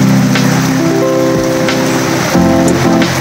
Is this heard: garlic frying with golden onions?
no